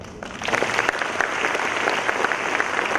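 Audience applause after a speech at a CEO conclave at GITAM University: steady, dense clapping from a crowded hall, rising after a brief quieter start and holding evenly throughout.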